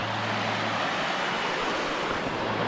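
A babbling brook at a campground flows under a road, making a steady, broad rushing wash with no voices.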